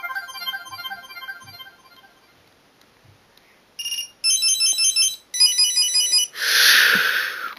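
An Alcatel OT800 mobile phone plays a ringtone melody: a faint tinkling tune first, then louder bursts of bright electronic beeping tones after a short pause, ending in a harsh noisy burst.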